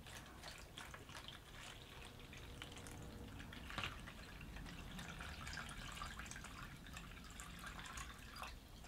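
Plain water pours and trickles into a hydroponic microgreens container, a faint, steady gurgling stream heard close by with a few drips, and no one speaking.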